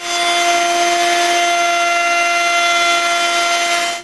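A loud, continuous high whine of a router with a 1/2 inch round-over bit cutting the front edge of a wooden board, steady and close for about four seconds before winding down at the end.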